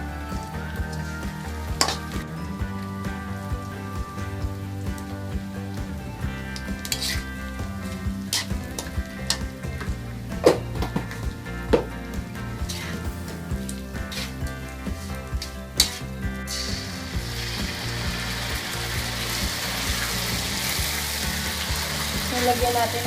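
Meat with sugar sizzles and fries loudly in a pan, with a steady crackling hiss broken by sharp clinks and scrapes of stirring.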